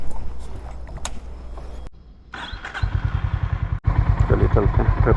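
A Honda CB350 RS motorcycle idles with a low rumble, cuts out briefly, then starts again and revs in a fast steady chug, loud and close, with a brief pause before the rhythm returns.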